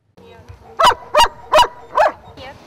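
A dog barks four times in a steady, evenly spaced series at a newly opened dog walking and training park, loud and close, with a faint whine trailing after the last bark.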